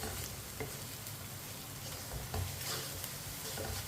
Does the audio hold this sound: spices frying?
yes